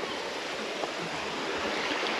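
Steady rushing of a stream flowing near a waterfall on Sumatra island, a broad continuous wash of water close by with no voices.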